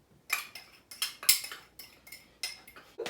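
A utensil stirring s'mores bar batter with flour and cocoa powder in a bowl, producing about ten rhythmic scraping knocks against the bowl's side, close and clear with no voices.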